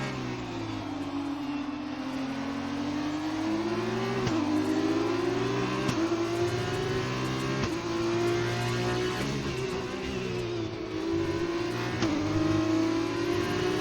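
Formula 2 race car engines in an Xbox F1 game, with a continuous loud, high engine drone whose pitch rises and falls through gear changes over the final lap at the Canada round.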